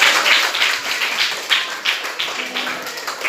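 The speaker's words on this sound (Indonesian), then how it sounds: "tepuk tangan untuk kita semua" A classroom group claps together after a game, scattered uneven hand claps nearby, moderately loud at first and thinning out over a few seconds.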